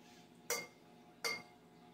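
A utensil clinks twice against a bowl while spiced recipe ingredients including cumin are mixed, two short, sharp, quiet taps spaced under a second apart in a hushed room.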